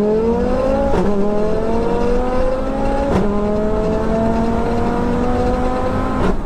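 A turbocharged Audi RS3 pulls hard in second gear, its engine note climbing steadily and loud from inside the car, with brief dips at each shift-like break, and no talking.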